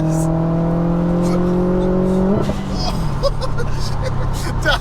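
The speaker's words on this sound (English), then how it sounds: "you're going to do a rolling launch and then a flat foot shift" Subaru WRX STI with 488 bhp revs hard in third gear during a rolling launch, a loud rising engine tone that breaks off at a shift, then rough, throbbing exhaust noise close by.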